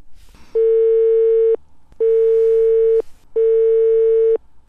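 A telephone call signal heard while trying to reach a school director: three loud, steady electronic tone bursts, each about a second long, separated by short silences. No voices.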